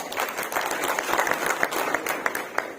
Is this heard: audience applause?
yes